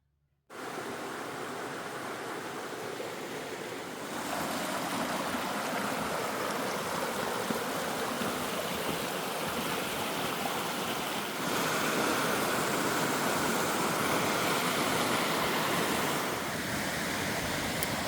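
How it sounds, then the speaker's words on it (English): Cascading waterfalls along a forest stream on the Appalachian Trail in Maine, a steady broad rushing roar of falling water that starts abruptly, holds close and loud throughout, and swells slightly partway through, with no voices. "They call it the Rainbow Stream Cascades. It's like a series of waterfalls."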